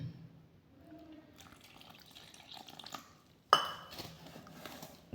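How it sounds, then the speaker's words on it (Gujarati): Water poured into rice flour dhokla batter in a bowl, a light splashing trickle with soft clinks, ending in a sharper splash near the end. "હવે એક ગ્લાસ જેટલું પાણી રેડીશું"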